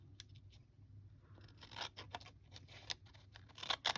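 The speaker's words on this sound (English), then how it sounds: "Scissors." Scissors cutting paper for craft tags, quiet close snips and scraping strokes that come faster toward the end, with faint low hum behind.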